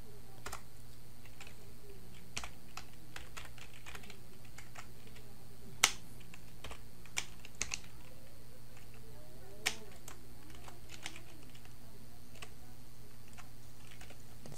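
Keys are tapped on a computer keyboard in sparse, uneven clicks, some sharper than others, over a steady low hum, with no speech during the typing.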